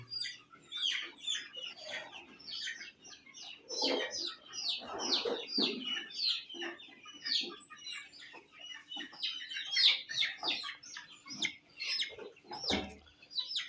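Desi chickens and chicks on a poultry farm fill the air with constant clucking and high, rapid peeping at close range. Scattered calls overlap throughout.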